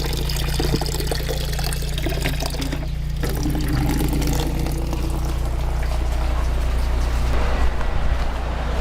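Water is poured into a plant container in an off-grid greenhouse, a steady splashing fill running throughout over a constant low hum, close and moderately loud with no talking.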